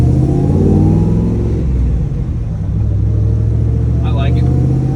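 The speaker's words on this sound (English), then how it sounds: "I like the carbureted small block Ford. I think it's cool. I think they sound cool." A carbureted small-block Ford V8 idles and revs in a steady, loud low rumble with engine harmonics, heard alongside someone talking over it.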